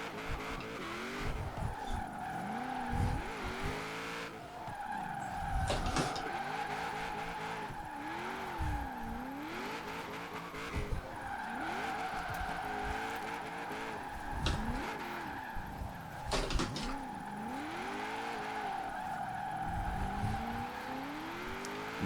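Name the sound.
Impala SS drifting in Forza Horizon 4 video game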